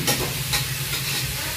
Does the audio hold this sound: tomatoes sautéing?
yes